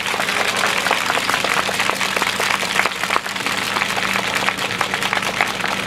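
An audience applauds a high school student's speech with dense, sustained clapping that stays steady and loud throughout.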